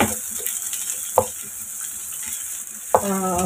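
A handful of chopped onion fries in a pan with a soft, steady sizzle close by, with two sharp scrapes of a spoon as it is stirred.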